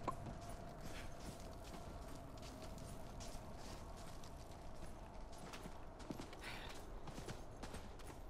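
Horse hooves clip-clop at a walk in the Diablo 4 video game. The steps are faint and even, set against quiet in-game ambience.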